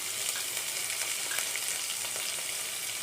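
Urad dal, cumin, curry leaves and onions frying in hot oil, with a steady, close sizzle and no talk.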